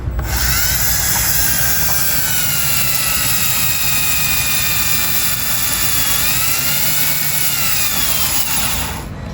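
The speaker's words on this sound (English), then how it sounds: "It's called a brake cylinder hone." A brake cylinder hone, driven by a power drill, spins inside a brake cylinder from a Ford bumpside pickup that sat parked for over 15 years. Its loud, steady whirring grinds on without a break, dipping briefly in pitch near the end.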